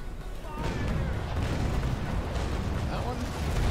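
Ship cannon fire in Naval Action: heavy booming broadsides rumble through continuously, with a voice talking over the barrage.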